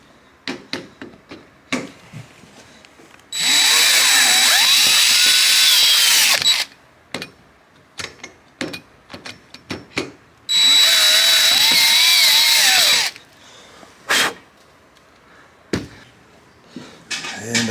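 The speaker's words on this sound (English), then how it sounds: "I've got a couple holes there that I need to drill out a little larger." Two sustained bursts of a power drill whining at high speed, each about three seconds, drilling out rivet holes on a boat, separated by clattering handling noises and small knocks.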